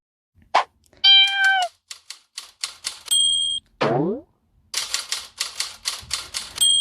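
Cartoon cat meows and boingy chimes from a mobile puzzle game, a quick sequence of short synthetic effects, tones and bouncy sweeps with a clear meow in the middle.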